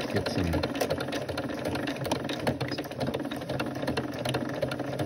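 A sewing machine runs a straight stitch through coiled rope for a rope cup and saucer, with a loud, continuous rapid mechanical chatter held close and steady throughout.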